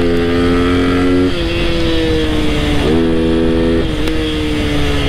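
An electric scooter speeds along a highway toward Rohtak, giving a loud, steady motor whine that steps up and down in pitch over constant wind and road roar.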